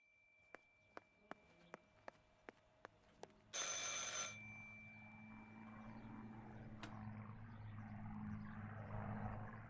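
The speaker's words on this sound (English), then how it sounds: "I should pick up the phone but remain silent." In the horror video game Martha Is Dead, a telephone bell rings in a quick, evenly spaced series of sharp metallic strikes, then a loud burst of noise cuts in, followed by a low, muffled background rumble.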